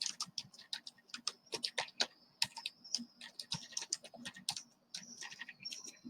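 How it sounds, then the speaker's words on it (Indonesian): Tab and other keys on a computer keyboard are pressed in a quick, irregular run of light plastic clicks, close and fairly crisp over a quiet room. "untuk berpindah saya tekan tab di keyboard"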